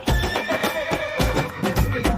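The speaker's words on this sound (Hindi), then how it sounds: "चल मेरे घोड़े चल टिक टिक" A horse whinnies over brisk clip-clop hoofbeats in a Hindi children's nursery rhyme, loud and close, with the trotting rhythm running steadily through the whole stretch.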